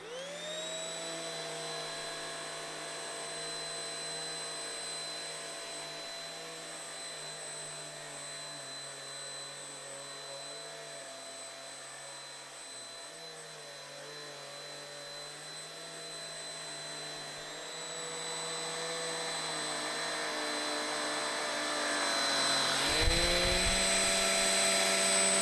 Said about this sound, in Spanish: Una vez que hemos visto cómo funciona el aspirador